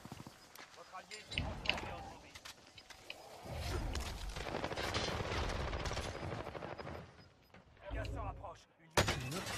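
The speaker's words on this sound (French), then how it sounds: "Pourquoi on me tire dessus là?" Gunfire in the video game Warzone, with bursts of shots and rattling fire under continuous talk from players, fairly faint in the mix.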